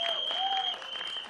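Audience applause at a Marathi film event, a short burst of steady clapping with a sustained whistle-like tone riding over it.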